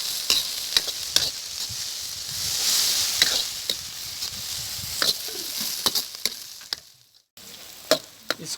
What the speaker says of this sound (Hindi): मटर भी आपने ऐसे ही भूनने हैं इसी में।